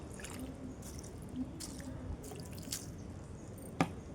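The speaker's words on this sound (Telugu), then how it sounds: "చూడండి, ఇలా నీళ్ళు వేసేసి" Water poured onto a garden plant drips and trickles quietly into the soil. Soft, sparse drops land close by, with one sharper splash near the end.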